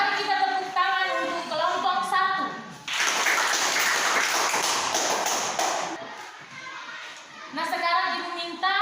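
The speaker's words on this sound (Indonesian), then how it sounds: "Mari kita tepuk tangan untuk kelompok 1." A classroom of students claps for a presenting group. After someone speaks, a burst of applause lasts about three seconds, and then children's voices return.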